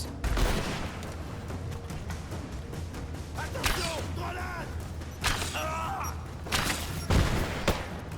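Gunfire in the Rise of the Tomb Raider PC game, scattered sharp shots and thuds over a continuous game soundtrack, with a player speaking at moments, moderate level.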